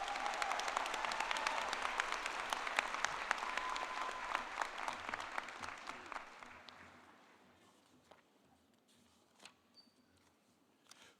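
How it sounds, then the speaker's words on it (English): Graduation commencement crowd applauding a speaker in a large hall, with loud, dense clapping for about six seconds that then thins into a few scattered claps and fades. "Let's hear another round of applause for Crystal Miller."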